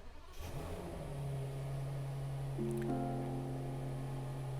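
A Rolls-Royce Phantom 8 engine starts up: a brief crank, then a smooth, quiet idle settling into a low steady hum with faint tonal whine layered on top, heard from inside the car.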